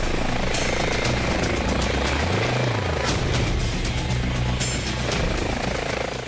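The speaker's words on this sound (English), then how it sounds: "The helicopter has been requested as the remote location has limited road access." An air ambulance helicopter flies toward an injury call at a remote paintballing activity centre on the Isle of Wight, its steady rotor drone loud and continuous, with a low pitch sweep as it passes.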